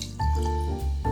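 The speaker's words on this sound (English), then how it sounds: "We're going to be dripping some chicken broth over the bacon and into the bottom" Chicken broth drips and trickles over bacon into a Dutch oven, a brief close liquid pour with watery splashing for about a second.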